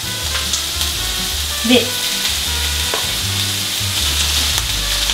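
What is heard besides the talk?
stir-frying chicken breast and eggplant in a pan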